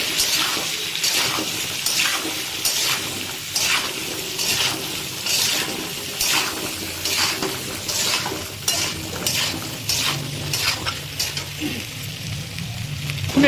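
Taro pieces fry with turmeric over a high gas flame, a steady sizzle broken by repeated scraping and clinking as a spatula stirs them around the pan, close and fairly loud, with no talking.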